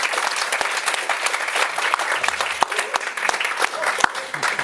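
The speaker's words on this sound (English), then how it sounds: "A big round of applause for the entire panel" Audience applause for a social enterprise forum panel, a loud, continuous crowd of hands clapping with a few sharper individual claps standing out, sustained throughout without talk.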